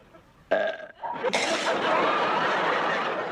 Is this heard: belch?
yes